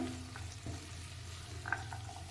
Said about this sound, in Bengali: এবার খুব ভালোভাবে এটাকে নাড়িয়ে নিতে হবে